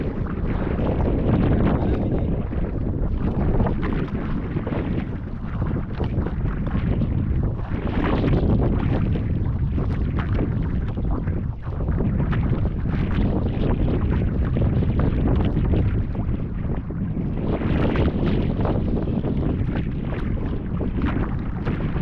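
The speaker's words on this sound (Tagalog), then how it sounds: "Mahangin na naman." Strong wind buffets the microphone in continuous roaring gusts, rising and falling over a low rumble, like being out on open water.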